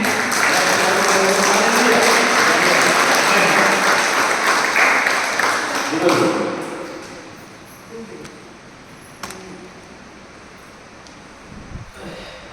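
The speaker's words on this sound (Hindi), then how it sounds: "एक बार प्रभु के लिए धन्यवाद जो ताली देंगे" A church congregation at a parish session in Palhara, Odisha, claps in loud, sustained applause that fades after several seconds, leaving murmuring voices and scattered sounds.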